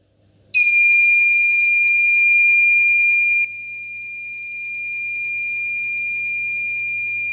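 A steady, high-pitched multimeter continuity beep starts abruptly and holds for several seconds, then drops to a softer continuous tone, with no talking, while probing a Lenovo ThinkPad T14 circuit board.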